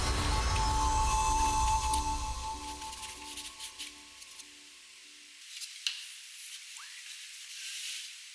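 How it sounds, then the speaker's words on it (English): A steam cleaner blows grime off car trim pieces over a work table with a harsh, loud hiss that cuts off after about five seconds, leaving quiet handling noises and a few faint clicks. "used the steamer to blast away all that filth onto the table"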